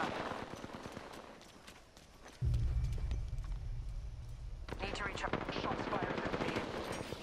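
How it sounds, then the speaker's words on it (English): Rapid automatic gunfire in a video game rattles steadily throughout, with a heavier rumbling burst partway through and fast crackling shots continuing to the end. "I'm taking shots."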